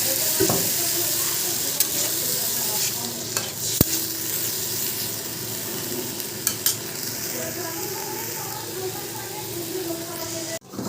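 Water hits a hot pan of sizzling vegetable stalks, setting off a loud steady hiss and crackle with sharp clicks of stirring and utensil knocks, and a voice talking briefly underneath.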